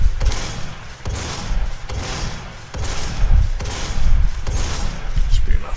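Repeated bursts of weapon fire in the video game Doom SnapMap, several heavy blasts in quick succession with a steady rhythm, loud and close with no talking over them.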